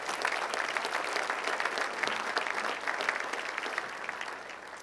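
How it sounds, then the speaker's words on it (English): Sustained applause from a crowd at a State of the City address in Hawthorne, many hands clapping steadily at an even loudness throughout. "Please give them another round of applause."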